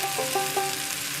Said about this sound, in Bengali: মাছটাকে মোটামুটি 20 মিনিটের মতো এইভাবে ফ্রাই করার পর